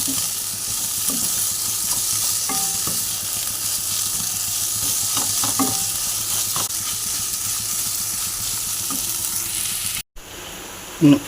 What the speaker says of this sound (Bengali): দিয়ে একটু ভালো করে নাড়িয়ে চাড়িয়ে নেব